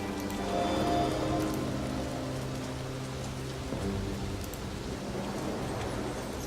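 Steady rain patters down over a campsite with a fire burning in the video game Mystery Case Files, a constant even hiss with faint low tones beneath, no voices.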